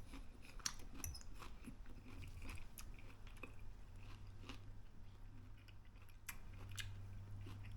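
Quiet, close-up crunchy chewing of fried cabbage with scattered crisp bites over a low steady hum.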